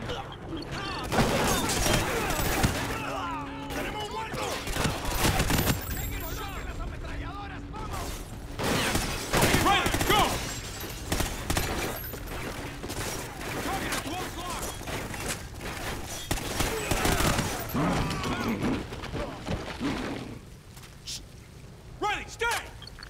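Gunfire and explosions from the video game Call of Duty Ghosts, a dense, loud battle soundscape of repeated shots and bursts running through nearly the whole stretch, with game voices speaking over the action.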